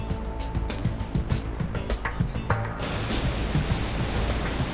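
Rough sea with heavy waves of three to four metres, a loud continuous wash of churning water with irregular thumps and roaring noise, no voices.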